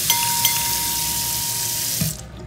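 Water gushes from a shower tap in an Airbnb bathroom, a loud, steady, pressured rush with no talking, which cuts off sharply near the end with a small clunk.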